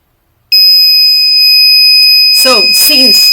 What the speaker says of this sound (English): the red LED is going to turn on and the active buzzer is going to sound too